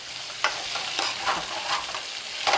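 Crab fry sizzles steadily in a pan while a utensil scrapes and stirs it in a few distinct strokes, close and fairly loud.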